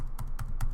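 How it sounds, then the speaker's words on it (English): Computer keyboard Shift key pressed repeatedly, crisp close clicks in a steady rhythm, three distinct presses within under a second, no voices. "press the Shift key 5 times"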